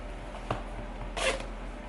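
A zipper on a handmade fabric clutch bag gives a short quiet rasp, followed by a slightly longer zip a moment later, close and soft in an otherwise still room.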